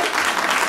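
An audience at a dry ice science demonstration breaks into brief applause, a dense, steady burst of clapping heard alone.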